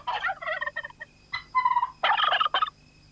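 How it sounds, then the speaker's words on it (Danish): A turkey gobbles in several quick, warbling bursts with short gaps between them, loud and close against a quiet background. "Freddy, du taler kalkunsprog."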